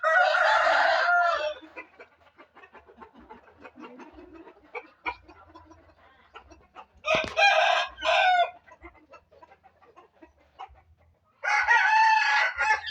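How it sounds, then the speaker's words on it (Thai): A brooding hen sitting on eggs without a nest clucks and squawks loudly in bursts, with quieter low clucking murmurs in between, close by and with no talking. "มาดู แม่ไก่ฟักไข่แบบไม่ทำรังกันนะคะ"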